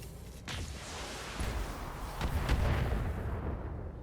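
Mech weapons firing in the BattleTech video game: a sustained barrage of heavy booms and rumbling blasts, with sharper cracks near the start and middle. The loud, dense bursts are not covered by any speech.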